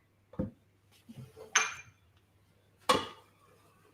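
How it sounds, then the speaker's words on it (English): A spoon clinks and scrapes in a pan while spice mix is stirred into onion and garlic, giving a few sharp metallic knocks and short scrapes, close and spaced out over quiet. "give it a good stir to get it all mixed"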